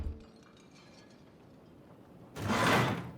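Knocking on a metal shutter door in the Dying Light 2 video game: after a quiet stretch, a loud rattling burst of the shutter rings out near the end.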